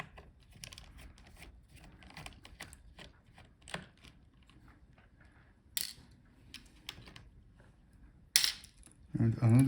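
Screws taken out of a Dell G15 5535 laptop: small close metallic clicks, ticks and scrapes of a screwdriver, scattered and quiet, with a sharper tap near the end.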